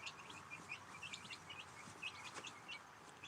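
Backyard chickens clucking and chirping softly at a distance, with short, scattered calls over faint background noise and no voices.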